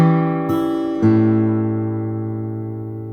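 Open first and fifth strings of an acoustic guitar ring out together after a couple of brief plucked notes, a close, clear sustained interval fading slowly, alone.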